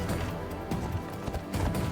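Horse galloping in Assassin's Creed Odyssey, rapid rhythmic clip-clop hoofbeats close by with sharp repeated thuds over a background wash of rushing sound.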